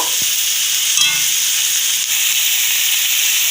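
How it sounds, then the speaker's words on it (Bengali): Cleaned chicken pieces go into a spice paste frying in oil, with a loud, steady sizzle, a brief soft knock, and a burst of crackle as they land. "এবার আমরা দিয়ে দিলাম ভালো করে পরিষ্কার করে রাখা চিকেনগুলো"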